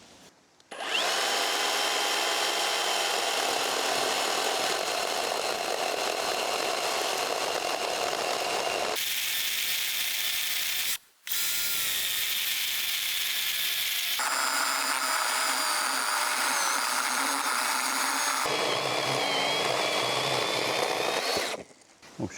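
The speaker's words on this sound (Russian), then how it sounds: "Вроде только начал пилить, а опилок уже прилично." A saw cuts wood during the building of a hut, giving a steady, loud, close, high-pitched buzzing whine. It runs almost without break across the whole stretch, with one brief pause midway, and no one speaks.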